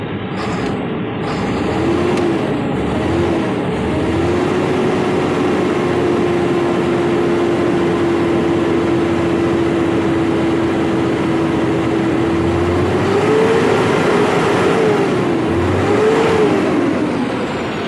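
A homemade wrecker truck's engine runs at a steady idle with a constant low drone and hum, rising briefly toward the end as it revs slightly, close by with no talk.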